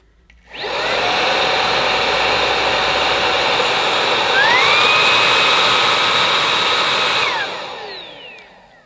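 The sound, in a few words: cordless vacuum cleaner motor running, switched on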